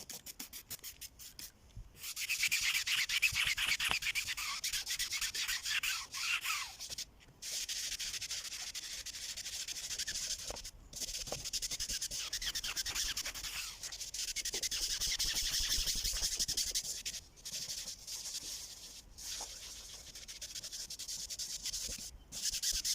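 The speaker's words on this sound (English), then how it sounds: "So I hit it with the House of Shine fabric cleaner and this brush, and give it a good scrubbing" A hand brush scrubs House of Shine fabric cleaner into the worn soft top of a Fiat 500, making a rapid, continuous rasping scrub in long strokes with brief pauses, close and steady.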